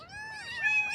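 A Persian cross kitten gives one short, high, clear meow, close and alone, rising then wavering to its end.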